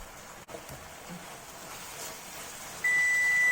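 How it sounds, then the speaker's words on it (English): A kitchen timer goes off while Korean spicy chicken strips simmer on a very low stove heat: a single steady electronic tone starts near the end and holds loud and unbroken over faint kitchen background. "So that's my timer."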